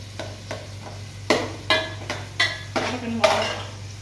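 Onions being sautéed in a pan: a run of distinct clinks and scrapes from a utensil against the pan, spaced irregularly and getting louder, over a faint sizzle with no voices.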